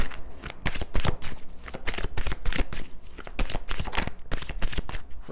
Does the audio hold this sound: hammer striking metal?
no